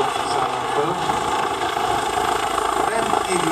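Eurocopter EC135 twin-engine helicopter with digitally controlled engines at the Szeged air show, a steady loud turbine whine and rotor roar holding throughout, with someone speaking over it.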